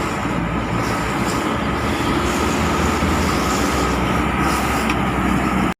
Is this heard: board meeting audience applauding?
no